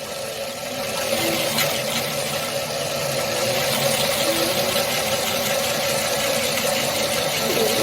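A steam engine model cylinder is machined on a shop machine, giving a steady mechanical drone and cutting hum that rises slightly after the first second and holds at an even level.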